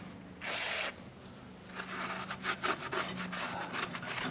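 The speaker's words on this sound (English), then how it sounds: "I'm just using some solvent on a rag." A rag soaked in solvent is rubbed over a differential cover sealing surface on a Chevrolet S10 rear axle, giving a faint, close scrubbing and wiping sound in short repeated strokes.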